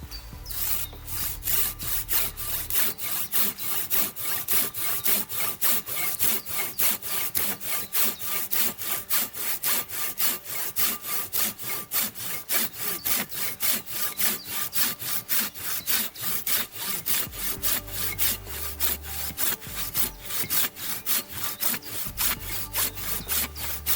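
A Silky Bigboy 360-10 folding hand saw rasps steadily through wood in fast, even back-and-forth strokes, close and continuous for the whole stretch.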